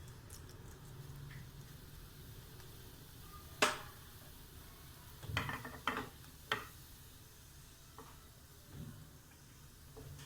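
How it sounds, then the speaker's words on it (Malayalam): Cumin seeds crackling in hot oil as stuffed brinjal is prepared, with faint, scattered pops and small spits over a quiet, low background hiss. "ജീരകം ചെറുതായിട്ട് പൊട്ടട്ടെ."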